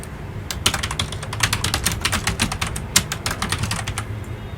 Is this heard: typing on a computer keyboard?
yes